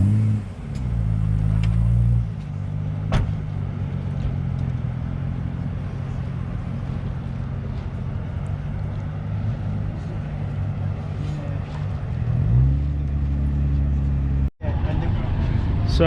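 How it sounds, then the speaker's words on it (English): A deep, steady engine of a 2014 Jaguar F-Type R sports car idles and rumbles close by, with a brief rev near the start and another swell toward the end. "So this is a 2014 Jaguar F-Type R."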